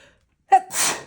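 A single sneeze: a quick sharp intake of breath, then a loud, breathy burst close to the microphone.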